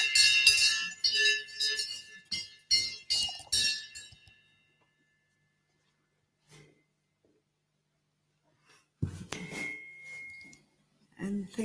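A Sergeant at Arms rings a bell in a youth parliament session, producing a rapid series of bright metallic clangs for several seconds. After a near-silent stretch a voice speaks briefly, with another ring-like tone.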